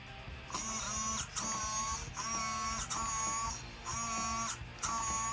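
Steering servo on a finished Tamiya Clodbuster RC truck whines back and forth in repeated short, buzzy bursts, close and fairly quiet, with no talking.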